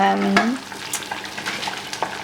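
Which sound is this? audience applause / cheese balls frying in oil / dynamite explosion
cheese balls frying in oil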